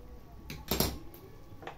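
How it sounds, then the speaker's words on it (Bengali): Cooking pot lid lifted off during cooking of amla preserve: a couple of short metallic clinks and a scrape, close and fairly quiet against a soft room hush. "এবার আমি ঢাকনা খুলে দেখে নেব।"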